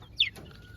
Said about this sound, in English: Just a chicken.